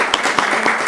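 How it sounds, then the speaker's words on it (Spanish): Brief burst of audience clapping at a conference, a short, fairly loud patter of many hands lasting about a second. "Démosle un aplauso, por favor."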